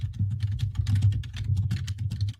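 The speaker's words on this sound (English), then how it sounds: "Wow, Lauren, your keyboard is so loud" Loud, fast clacking of a computer keyboard, a dense continuous run of keystrokes over a low electrical hum, close to the microphone.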